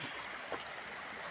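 Kabasalan River flowing past, a faint steady water rush with a tiny splash or gurgle midway and no talk.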